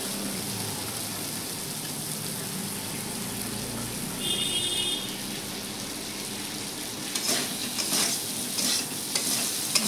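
Ground spices fry and sizzle in oil in a pan as a fish curry with potatoes is cooked. A utensil stirs and scrapes them, and the sizzling crackles at a quiet to moderate level, growing busier toward the end, with no talk.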